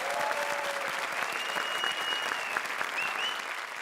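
An audience on a comedy show stage claps loudly and continuously, a dense wash of applause that holds steady for a few seconds before easing slightly.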